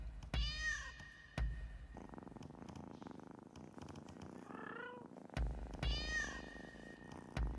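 Cats in a video game purr steadily and meow several times, with clear rising calls near the start and again near the end over the game's background sound.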